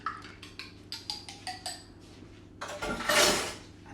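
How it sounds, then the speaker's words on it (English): A spoon clinks repeatedly against the side of a bowl while stirring a milk mixture for a fruit loaf, about eight quick taps in steady rhythm, followed by a louder scraping swish near the end; no talking. "Give it a wee stir."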